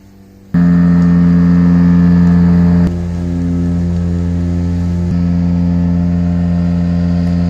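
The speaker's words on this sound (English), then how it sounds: "That truck is extracting human excrement out of a septic tank." A septic pumping truck in Belize vacuums human waste out of a septic tank, giving a steady, loud engine and pump drone with strong low hum that starts abruptly and runs continuously, with a slight shift partway through, with no voices.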